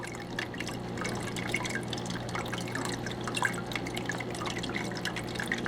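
Water runs steadily through a homemade blue bowl gold recovery setup, a continuous trickling and dripping flow at moderate level with no breaks and no voices.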